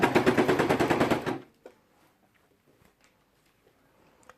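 A sewing machine stitches along a folded fabric edge on a strawberry-shaped folding shopping bag, a fast, rhythmic mechanical rattle for just over a second before stopping, leaving near silence with faint handling clicks.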